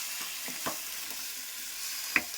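Peanuts roast in a blackened kadai, giving a soft continuous sizzle and rustle with a few light stirring scrapes and one sharper clink near the end, quiet and close.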